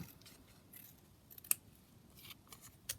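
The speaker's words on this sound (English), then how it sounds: "So we'll just cut around it like that." Scissors cut around a paper craft piece in a quiet room, with soft, faint snips and one sharper snip, under a light background hiss.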